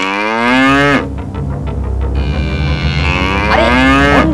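An angry cartoon bull bellows in two long, loud, close moos, one at the start and another rising near the end, with a brief clattering gap between them.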